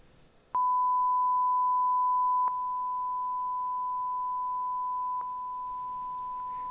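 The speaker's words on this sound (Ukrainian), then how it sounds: "Далі я створив декілька фрагментів синусоїдального сигналу частотою 1 кГц та різними рівнями." Steady 1 kHz sine test tone that starts abruptly and holds, its level dropping in distinct steps twice with brief clicks at each change, clean and continuous with no other sound.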